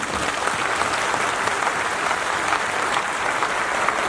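Sustained, dense applause from an audience at a speech on caste and Ambedkar, steady and loud throughout with no pauses or talk.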